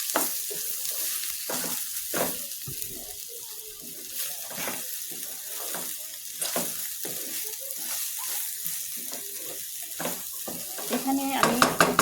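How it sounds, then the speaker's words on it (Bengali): Pulao rice being fried in homemade ghee, a soft continuous sizzle under repeated scraping stirs of a spoon through the grains, close and fairly quiet, with a louder rattle of stirring near the end. "পোলাওর চাউলটা একটু হালকা বাদামি কালার করে ভেজে নেব।"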